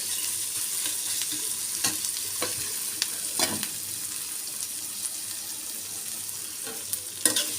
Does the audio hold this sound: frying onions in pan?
yes